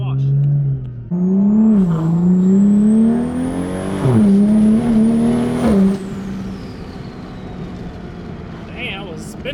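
Loud car engine spooling and revving at a car meet event, a strong steady drone that rises and falls with a whining turbo-like whistle climbing over it, with background crowd noise and a person talking in parts.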